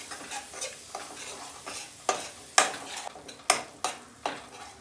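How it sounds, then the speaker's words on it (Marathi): Spices sautéing in a pan for katachi amti, with a soft background sizzle broken by a regular series of sharp spatula scrapes and taps against the pan, close by and without voices. "हे सर्व मसाले व्यवस्थित असे परतून घेऊ।"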